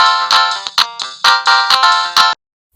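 A mobile phone ringtone plays loud and close as a rapid run of bright, repeated melodic bursts lasting about two seconds, then cuts off into silence.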